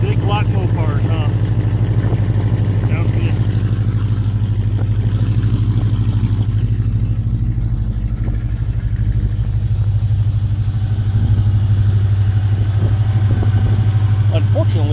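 A 1974 Chrysler Imperial with a vacuum leak idles just after a cold start, its engine a steady, loud, low rumble that runs throughout with a slight rise near the end, while a voice talks faintly over it.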